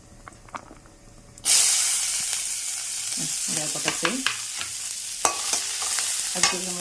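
Onions hit hot oil in a pan with a sudden loud burst of sizzling and hissing steam, then keep frying steadily, broken by sharp spoon scrapes and clinks against the pan.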